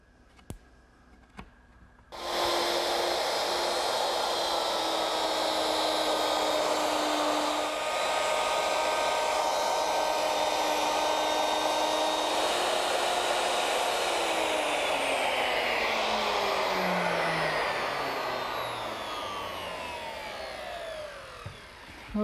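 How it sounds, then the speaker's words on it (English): A router cuts the inside diameter of a wooden garden table, starting after a few clicks with a loud, steady high whine that stays constant for about twenty seconds, then winds down in pitch near the end. "Now we'll move the router and cut the inside diameter"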